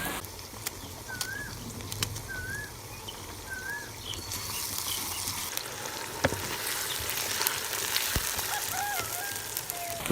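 Green chillies frying in a pan, a continuous soft sizzle and crackle with occasional faint clicks and a few bird-like chirps in the background; no talk.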